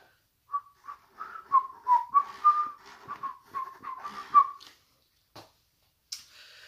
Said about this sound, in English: I'm really bad at whistling